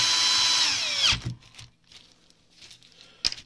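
A cordless drill-driver drives a screw with a loud, close, rising whir for about a second, then stops, followed by faint clicks and handling sounds.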